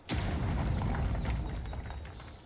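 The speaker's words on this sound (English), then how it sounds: "Grenade." A grenade goes off in a video game as a loud, close, sustained boom with a rumbling low end that slowly fades, with no talk over it.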